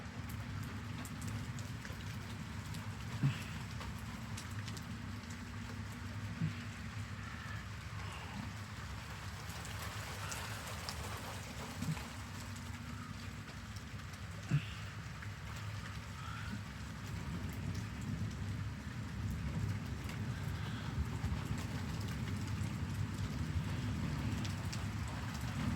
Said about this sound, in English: Some big raindrops, sounds like.